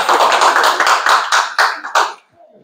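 Staff at a donation presentation by the National Water Commission clap together in a loud, close burst with uneven pulsing rhythm, stopping abruptly after about two seconds and leaving faint room sound.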